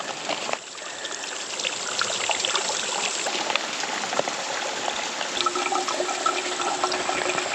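Steady water trickling and splashing through a Katadyn BeFree gravity filter, a continuous gentle stream that runs without pause throughout, fairly close.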